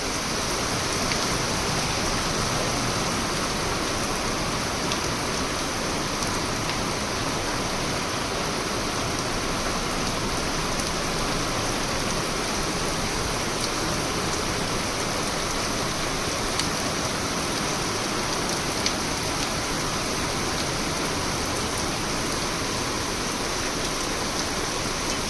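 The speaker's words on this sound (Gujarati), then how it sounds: "અત્યારે ધોધમાર વરસાદ ચાલુ છે" Heavy monsoon downpour in Khajuri Gundala village near Jetpur, Rajkot, Gujarat, a dense, unbroken hiss of rain that holds evenly at close range for the whole stretch with no voices.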